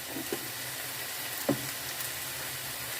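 Quick cabbage rolls sizzle in a skillet, a soft steady frying hiss broken by a few small pops and clicks, close and moderately quiet, with no talking.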